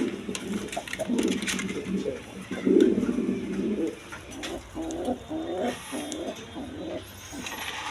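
A pair of Shari pigeons coo in soft, repeated throaty phrases at a pigeon farm, fairly close, with faint background rustling and no talk.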